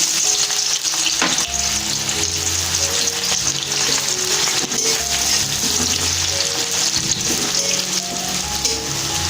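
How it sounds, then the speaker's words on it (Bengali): Chopped onions dropped into hot oil for a Punjabi-style egg tadka fry with a loud, continuous close-up crackling sizzle, steady throughout with a few stirring knocks and no voices. "আমার তেল গরম হয়ে গেছে, এবার পেঁয়াজ কুচনোটা দিলাম"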